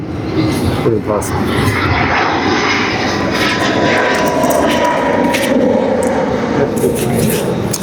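Propeller or jet airplanes passing overhead produce a loud, steady broadband roar that persists through the whole stretch, with faint voices mixed underneath.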